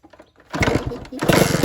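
Engine of a stock blue Honda Nova motorcycle running close by, a quiet start that swells into a loud, steady, buzzing idle with a slight rise near the end.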